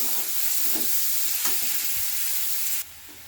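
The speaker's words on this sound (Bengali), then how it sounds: "পেঁয়াজ রসুনটা নাড়তে নাড়তে পুরো লাল হয়ে গেছে" Chopped onion and garlic stir-frying in hot oil for a Bangladeshi spinach dish, a dense, even sizzle with faint stirring scrapes that cuts off abruptly near the end.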